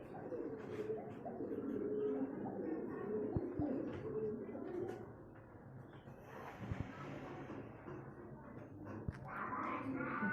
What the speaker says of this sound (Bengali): এটাকে কিং বলে, কিং পায়রা বলে এগুলোকে